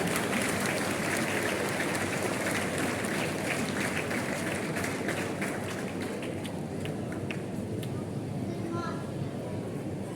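Steady, dense applause from a large school crowd at an Independence Day assembly welcomes a class 4 student speaker, a continuous wash of clapping that fills the whole stretch at even loudness.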